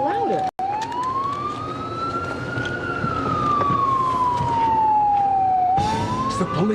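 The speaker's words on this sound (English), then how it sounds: "Oh, it sounds like a siren." A police siren wails in long rising and falling sweeps, loud and close throughout, with a brief dropout early on and engine hum beneath.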